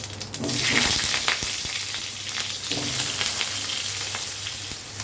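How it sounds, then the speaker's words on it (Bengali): Pointed gourd and potato pieces sizzle in hot oil in a wok with cumin seeds, a steady close crackle with occasional clinks and stirring sounds, and no one talking. "পটল আলুটা ছেড়ে দেবো"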